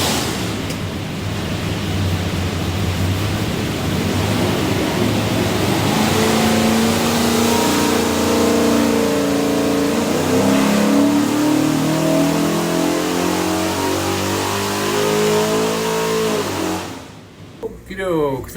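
A 504-horsepower 347ci small-block Ford V8 built for a 1965 Falcon revs hard on a dyno, a loud sustained roar rising steadily in pitch through a long pull before cutting off near the end.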